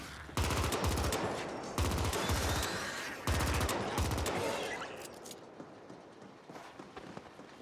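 Bursts of automatic gunfire from the sci-fi shooter game The Ascent, three loud rapid-fire volleys in quick succession followed by a fading tail of scattered shots and ambient noise.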